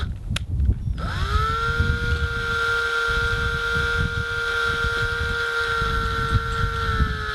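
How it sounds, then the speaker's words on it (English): A hand drill with a 1/4-inch bit grinds aluminum on a paramotor cylinder head. After a brief rattle, the motor spins up to a sustained, high whine, with scraping grinding noise underneath. "I'm just going to grind the metal back by taking the drill and going up and down and around"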